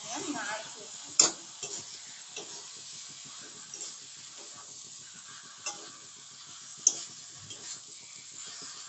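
A spoon stirs chicken curry, with salt added, in a pan, giving soft scraping strokes over a faint, steady sizzle, with a few sharper clinks against the metal.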